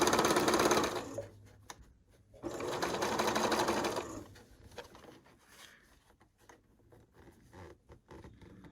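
A sewing machine stitches quilt pieces in two short close bursts of rapid whirring, each about a second or more, separated by pauses filled with fabric handling, rustling and small knocks as the seam is straightened and tugged.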